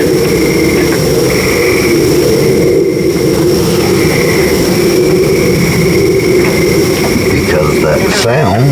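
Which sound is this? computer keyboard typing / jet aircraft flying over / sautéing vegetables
jet aircraft flying over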